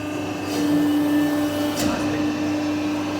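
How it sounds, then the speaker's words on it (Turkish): A CNC press brake's axes travel to their reference position after start-up, giving a steady mechanical hum with a sustained motor tone and faint servo whine, close by. "Makinenin eksenleri referansa gidiyor."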